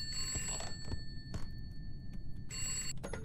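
Telephone rings out in the horror game Contemp, two bursts of shrill electronic bell tones with a pause between them, loud and close over a low rumbling ambience.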